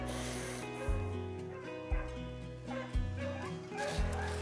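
Rabbit hunting dogs bark and yip outdoors in a steady series of about four sharp calls at roughly one-second intervals over a droning background.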